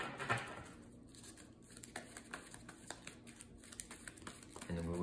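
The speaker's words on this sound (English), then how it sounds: "And let's shuffle up our player deck here." Player deck of Marvel Champions game cards being shuffled, a run of soft, rapid riffling clicks and flutters at close range, with a brief burst of talk near the start and a voice at the end.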